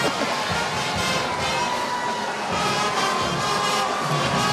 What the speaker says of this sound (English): The crowd's starting to build here in downtown Mobile, too.